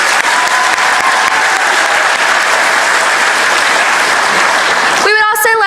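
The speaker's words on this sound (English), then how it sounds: "let's give one more round of applause for all of our State Star winners." Loud, dense applause fills a convention hall for the State Star winners at the 91st South Carolina FFA Convention, continuous until it cuts off near the end where a voice briefly comes in.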